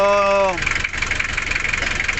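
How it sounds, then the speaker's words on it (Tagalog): An overhauled Mazda Bongo RF engine runs close and loud with a steady, fluttering rumble, following a brief voiced sound at the start. "witness natin ito na umandar na talaga yung makina natin"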